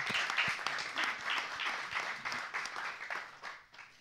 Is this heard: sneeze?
no